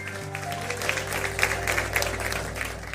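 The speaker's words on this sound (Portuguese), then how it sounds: "Dá um aplauso." A church congregation applauds during a Portuguese-language sermon, a steady wash of clapping held at moderate volume over a low sustained organ or keyboard drone for about three seconds.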